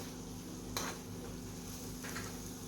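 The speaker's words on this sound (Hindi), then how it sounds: "एक बार मिक्स करके ले रही हूँ।" A spoon stirs red and brown rice khichadi in a pot, giving two brief scraping strokes over a faint steady background hum, with no talking.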